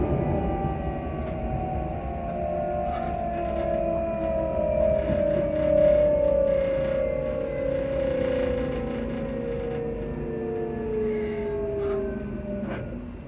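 An Edinburgh tram runs between stops with a steady electric motor whine that slowly glides downward in pitch as it slows. The close rumble of the car continues underneath, with no voices.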